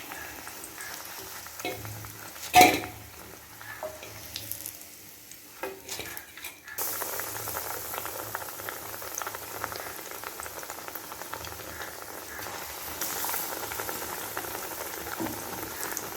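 Brinjal bajji fry in hot oil with a steady bubbling sizzle, broken early on by a few sharp utensil clinks and taps before the frying settles into a fuller, even crackle.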